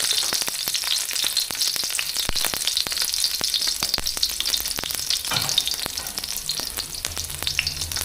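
Vegetables and pork belly stir-fry in a hot preheated wok, giving a loud, continuous crackling sizzle with scattered sharp pops throughout. No one speaks.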